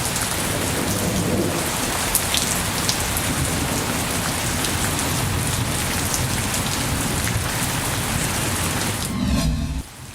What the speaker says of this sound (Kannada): ಸಿಲಿಕಾನ್ ಸಿಟಿಯಲ್ಲೂ ಕೂಡ ಭಾರಿ ಮಳೆ ಆಗ್ತಾ ಇದೆ